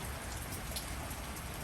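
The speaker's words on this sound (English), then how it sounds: "So I figured I'd show you the rain." A soft, unbroken wash of raindrops on surfaces in Los Angeles, steady and fairly quiet throughout, heard alone with no voices.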